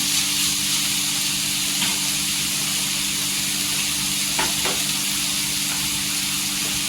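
Dried sukat fish fries in hot oil with a steady, close sizzle and hiss as dry spices go in, with a few faint clicks of a spoon against the pan.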